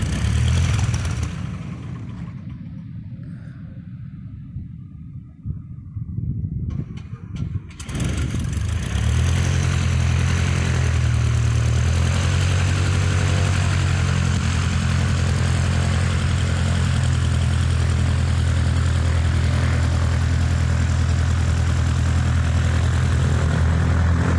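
Propeller airplane at a Morristown, Tennessee airport touching down and taking off again, its engine quiet at first, then surging to a loud, sustained droning roar that holds close for the rest of the clip.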